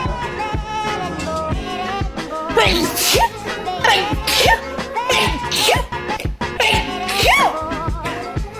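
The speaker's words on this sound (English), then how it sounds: "I can sneeze like normal now" Repeated human sneezes chopped into a busy, loud music track, with sharp bursts landing in rhythm over steady instruments for several seconds.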